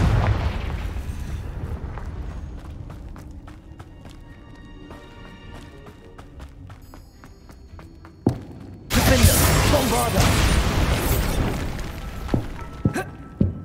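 A Confringo blast spell goes off in Hogwarts Legacy: a sharp crack, then a loud, roaring burst of explosive noise that fills the space and slowly breaks apart after a quieter stretch of game ambience.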